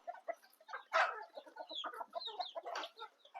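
Free-range village chickens cluck and murmur softly while eating soaked wheat, with scattered pecking and short calls, fairly close and moderately quiet.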